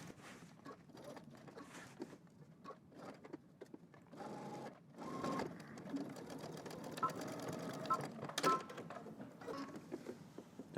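A home sewing machine stitches a garment side seam in short, uneven bursts, with a soft rapid needle patter and light handling noises. The sound stays quiet and close, with no talk.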